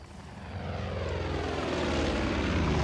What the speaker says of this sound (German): Das Flugzeug taugt mir nicht.